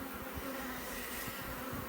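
Dense, steady buzzing of many honey bees on a hive frame, close and continuous, a low hum that doesn't let up.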